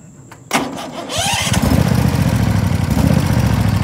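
A lawn mower engine sputters to life with a sharp catch, then settles into a loud, steady full-throttle drone that holds without pause.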